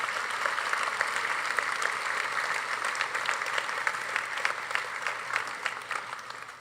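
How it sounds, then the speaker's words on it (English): Key Club students at a high school class night ceremony receive loud, sustained applause from the audience, dense clapping tapering slightly at the end. "a round of applause for our Key Club students"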